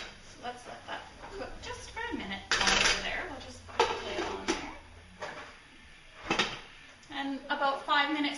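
A pasta dish with melting cream cheese being stirred in a pan, with scraping and clinks of a utensil against the pan coming in irregular bursts while someone talks over it.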